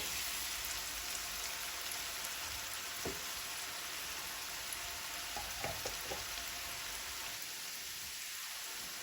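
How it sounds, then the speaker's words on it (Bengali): Onion frying in a pan with chili powder and salt, giving a steady close sizzle with a few soft clicks and spatters. No one speaks. "এখন আমি পেঁয়াজটার সাথে মরিচের গুঁড়ার লবণটা এক মিনিট মতো একটু কষায় নিব"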